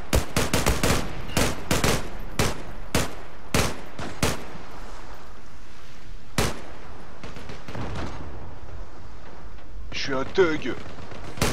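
Rapid bursts of gunfire in the online shooter game Zula, sharp repeated shots in quick clusters, loud and close, with someone talking over the firing.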